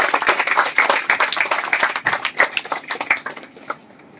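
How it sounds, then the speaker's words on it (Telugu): A group of people claps in congratulation, dense steady applause that thins out and fades toward the end. "గట్టిగా చప్పట్లతో అభినందనలు తెలియజేస్తాం."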